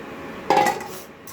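Potatoes dropped into a metal cooking pot while preparing a simple vegetarian dish, a single close clattering clank followed by a short fading ring.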